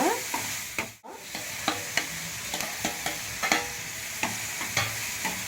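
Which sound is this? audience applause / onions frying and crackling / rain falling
onions frying and crackling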